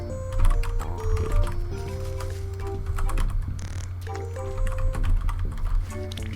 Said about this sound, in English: I used to be a lot better at typing.